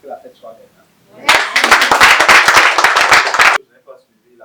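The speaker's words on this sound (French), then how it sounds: "Je n'ai pas suivi la clameur de vos applaudissements." Audience at a church anniversary celebration bursts into loud, close clapping for about two seconds, dense and fairly even before cutting off abruptly, with brief speech before and after.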